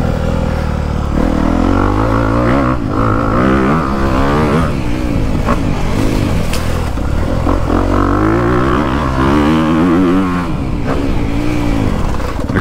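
A 250F four-stroke dirt bike engine revs hard and close while the rider rolls the throttle through corners. The pitch climbs and drops again and again in a loud, continuous roar, with no talking.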